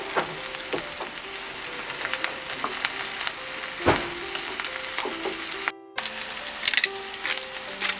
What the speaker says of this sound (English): season with salt and pepper and be mesmerized by the sizzle